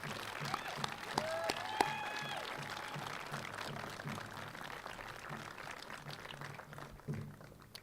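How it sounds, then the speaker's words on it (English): Sustained applause from a crowd at a transit agency award celebration, dense clapping filling the whole stretch and gradually thinning toward the end. "let me just start by encouraging another round of applause"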